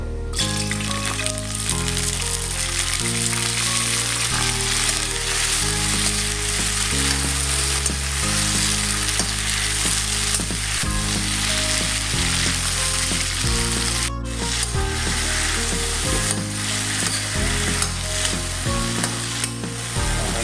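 Cooking oil sizzles steadily in a hot pan while string beans are prepared, a continuous frying hiss running the whole time beneath loud background music.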